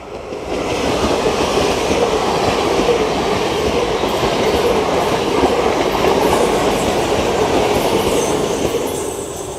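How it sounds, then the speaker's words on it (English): A train rumbles steadily past on the line at Dawlish Warren in Devon, a loud, continuous roar of wheels and carriages close by with faint rail hiss, no speech. "Here we go, the first train,"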